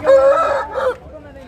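A rooster crows loud and close at a chicken market in Vijayawada, one drawn-out cock-a-doodle-doo with a short break before its final rising note, then the call trails off into low background noise.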